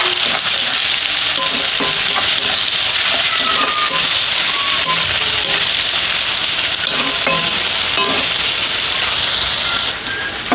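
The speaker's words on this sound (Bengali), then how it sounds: "তখন আমি কুচিয়ে রাখা পেঁয়াজটা দিয়ে দেবো। ভালো করে লাল লাল করে ভেজে নেব।" Chopped onions fry in hot oil with sugar and chillies until browned, a loud, steady sizzle running unbroken for the whole stretch with faint stirring scrapes, close and alone without talk, easing off slightly at the very end.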